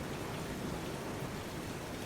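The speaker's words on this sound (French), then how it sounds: "Au moins, on a un peu de pluie" Steady rain falling as an ambient effect for a stormy apocalyptic audiobook scene, a dense continuous hiss of drops with no distinct pattern, heard alone without any voice.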